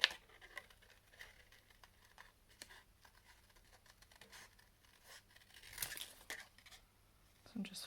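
Scissors snip around the edge of a rainbow-design paper card, a series of soft, quiet cuts and light paper rustles with a slightly louder crinkle near the end, over faint background hiss.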